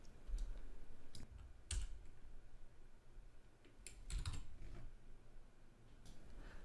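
Soft typing on a computer keyboard, a few scattered key clicks and brief bursts, faint and close, no voices.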